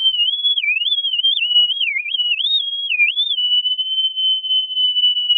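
Synthesized bird chirp built in VCV Rack with chorus applied: a steady whistling tone that warbles and dips in quick chirpy bends for about three seconds, then holds one sustained pitch, clean and alone.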